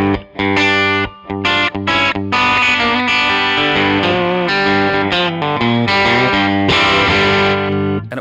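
Electric guitar strums chords through an Axe-FX III preset modeled on early-70s tone with Double Verb cabs, a cleanish, slightly driven sound ringing out loud and alone in choppy bursts and sustained chords.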